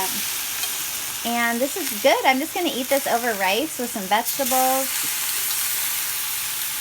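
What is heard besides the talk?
tofu pan-frying with tamari soy sauce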